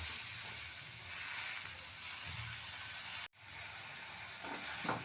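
Tamarind, green chili, coriander and mint sauté in a pan, a faint, steady sizzle with a brief break midway and small stirring sounds, no one talking.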